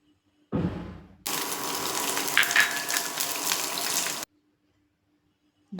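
Nigella seeds, garlic and dried and green chillies hit hot oil in a wok, setting off a loud, broad sizzle that lasts about three seconds and stops abruptly, after a brief softer rustle.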